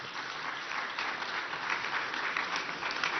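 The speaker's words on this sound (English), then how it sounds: "Ladies and gentlemen, another round of applause for His Excellency" Steady, dense applause from a media-encounter audience for His Excellency, heard at a distance as a continuous even wash of clapping with no voices over it.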